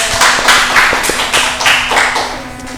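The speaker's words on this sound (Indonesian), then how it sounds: "beri tepuk tangan untuk Maulida" A small classroom group claps for a student named Maulida, giving close, uneven rhythmic pats that pulse for a few seconds and then thin out.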